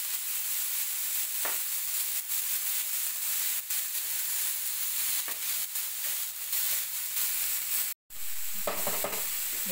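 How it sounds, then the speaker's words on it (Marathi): Onion sautéing in a pan while being browned for dahi bhendi, with a continuous close sizzle, occasional stirring scrapes and a brief break near the end. "ह्या आता कांद्याला आपण थोडंसं ब्राऊन होऊ देणार आहोत"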